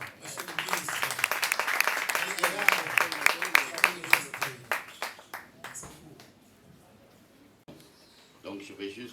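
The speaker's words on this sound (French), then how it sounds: "On applaudit très fort, monsieur le ministre." Audience applause at the pre-launch event of the DAKARECOFEST film festival, a dense burst of claps that gradually thins out and fades, with a voice briefly heard among the clapping.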